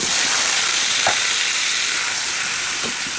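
Chicken frying in a pan for adobo gives off a steady, close sizzle and hiss that continues unbroken the whole time, with a few faint stirring knocks and no talking.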